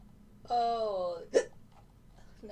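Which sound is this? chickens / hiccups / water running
hiccups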